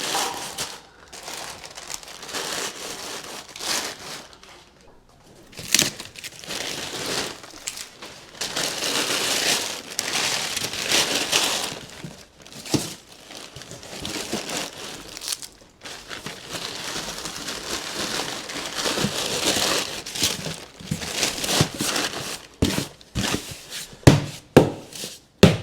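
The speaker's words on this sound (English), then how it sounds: "We're going to crinkle up some paper." Packing paper crumpled by hand into a kitchen dish pack box, rustling and crinkling in irregular bursts and short pauses, close up with no talking.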